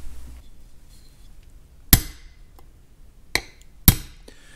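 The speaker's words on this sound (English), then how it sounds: "we will seat that in place with the hammer and the punch" Three sharp metallic hammer strikes on a punch seating a Welsh plug in a Farmall M carburetor, spaced unevenly against a quiet background, each ringing briefly.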